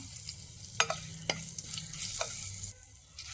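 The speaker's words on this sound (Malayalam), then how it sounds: "ഇതിലേക്ക് ഇനി ചതച്ച വെളുത്തുള്ളി ഇട്ട് കൊടുക്കാം." Crushed garlic hits a pan of Kerala fish curry with mango, giving a soft continuous sizzle broken by a few sharp spatula clicks and scrapes as it is stirred.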